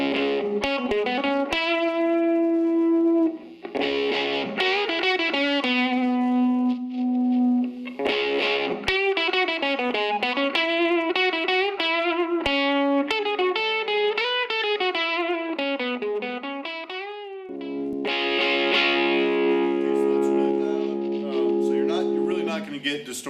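An electric guitar plays through a distortion pedal into a small Silvertone 1472 amplifier of about 10 to 12 watts, giving loud, buzzing, sustained chords and bending notes that ring continuously with brief gaps between phrases.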